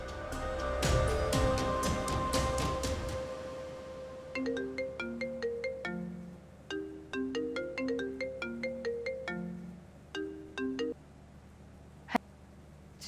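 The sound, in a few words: phone ringing on an outgoing call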